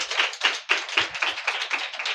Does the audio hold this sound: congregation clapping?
yes